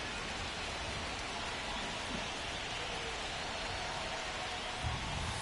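Steady, even rain hiss fills the whole stretch of a rainy baseball game in MLB 25, with no talk over it.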